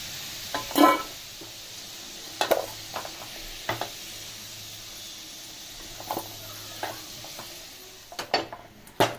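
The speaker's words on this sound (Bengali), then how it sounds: "তো আলুটা ফ্রাই হয়ে এসেছে, তো আমি পুরো তুলে নেবো আলুটাকে" Potatoes frying in refined oil in a pan give a low, soft sizzle. Several sharp utensil scrapes and clinks break in as they are stirred and lifted out, with no one speaking.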